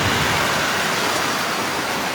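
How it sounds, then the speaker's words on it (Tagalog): Heavy rain pours down in a windy storm, locally called subasko, in Muzon, Taytay, making a dense, loud, unbroken roar with no other sounds standing out. "Malakas ang ulan."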